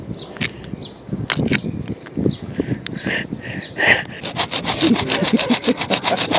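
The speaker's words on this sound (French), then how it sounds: "C'est une bonne scie sauteuse" Close, rapid back-and-forth rasping of a small jigsaw cutting, with irregular strokes at first, then settling into a fast, steady rhythm.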